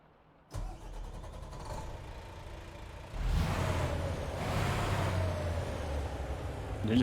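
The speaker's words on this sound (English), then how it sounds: "The engine sounds good." A truck engine in American Truck Simulator turns over and catches at about half a second, settling into a steady idle, then revs up to a louder, fuller rumble from about three seconds that holds to the end, with no talk.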